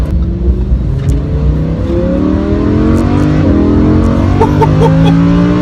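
A Lamborghini Huracan accelerates hard up a highway on-ramp, its engine note climbing loud and steady through a gear change with no letup, heard from inside the car with no talking.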